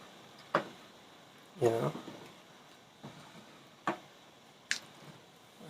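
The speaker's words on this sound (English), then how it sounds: "So I'm just going to stir this up, mix the rice and the peas together." Rice and peas are stirred together in a pot, giving a handful of separate wet squishes and scrapes spaced a second or so apart, close and fairly soft, with a voice briefly speaking.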